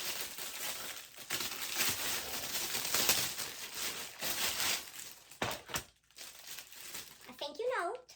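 A plastic bag crinkles and rustles in repeated bursts as a laundry basket package is unpacked, close and fairly continuous, with a brief voice near the end.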